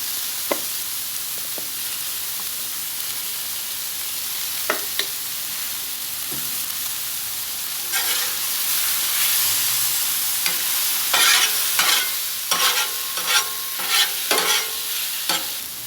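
Lo mein noodles and garlic fry on a 22-inch Blackstone griddle in a continuous bright sizzle, broken by scattered scrapes and clicks from a spatula. The stirring grows busier and louder toward the end, and no one speaks.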